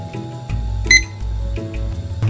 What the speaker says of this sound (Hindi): टाइमर साथ में रखना हमेशा अच्छा होता है। इसको हम सेट करते हैं 8 मिनट पे।